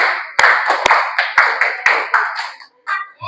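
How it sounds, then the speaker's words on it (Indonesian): A class claps together in a counted classroom clap routine, producing a series of sharp, close hand claps in grouped bursts of one, two and three, with a brief voice just after. "Tepuk 1, tepuk 2, tepuk 3, tepuk 1, 2,"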